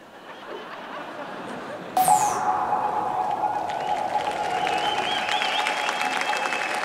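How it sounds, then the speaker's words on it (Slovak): An audience at a radio music awards ceremony applauds an award winner, steady dense clapping that swells after a moment and continues evenly, with a faint tone and light crowd noise mixed in. "Potlesk pre víťaza ceny Zlatý Benetín"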